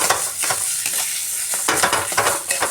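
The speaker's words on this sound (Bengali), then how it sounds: "দিয়ে ভালো করে মিশিয়ে দিলাম" A spatula scrapes and stirs a grated paneer and potato filling in a hot pan, with rhythmic bursts of stirring over a soft sizzle, close and fairly loud, no voices.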